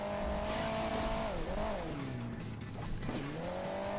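Car engine droning in the Hill Climb Racing 2 driving game, a steady tonal motor whine that dips and rises in pitch as the vehicle climbs and bumps over terrain, loud and continuous with no talking.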